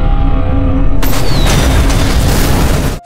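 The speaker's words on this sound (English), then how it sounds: "shouldering a rocket launcher." A rocket launcher fires in a zombie apocalypse film, giving a loud, sustained roaring blast that swells sharply about a second in and rumbles on before cutting off abruptly.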